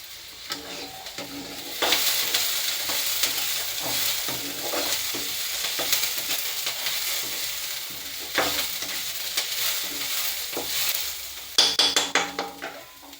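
Chopped onion sizzles steadily in hot oil in a pan while being cooked for poha at home. A spoon scrapes and stirs it in repeated bursts, up close with no talking.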